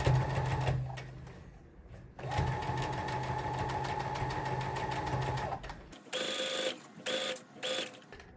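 Sewing machine back stitching a tote bag lining, a rapid mechanical whirr in bursts with short pauses, then a few quick stop-start runs near the end, close and clear.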